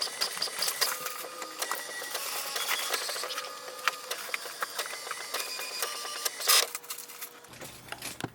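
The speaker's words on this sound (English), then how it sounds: "it's going to print the alignment page now" An HP Envy 5070 inkjet printer prints an alignment page, its print head shuttling in a busy stream of whirs and clicks up close, ending with a short high whine and paper feed.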